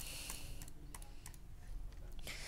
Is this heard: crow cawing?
no